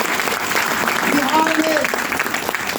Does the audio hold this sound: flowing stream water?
no